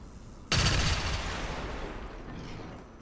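Gunfire in the video game XCOM 2: a sudden loud burst of shots after a brief quiet moment, followed by a long, slowly fading rumbling tail.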